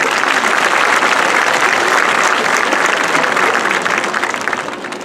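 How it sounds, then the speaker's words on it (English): Graduation audience at a high school ceremony applauds faculty and staff, a dense, loud, sustained clapping from a large crowd that fades slightly toward the end. "Can we get a round of applause for our amazing faculty and staff?"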